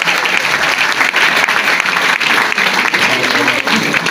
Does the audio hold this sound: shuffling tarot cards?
no